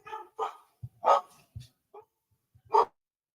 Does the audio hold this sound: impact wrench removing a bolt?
no